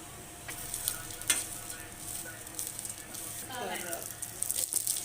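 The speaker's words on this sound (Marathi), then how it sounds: "तर खोबऱ्यानंतर आपण यामध्ये डाळवे देखील भाजून घेऊया" Split roasted gram (dalia) roasts in a pan after coconut for a black masala, with soft, close sizzling and occasional scraping and stirring throughout.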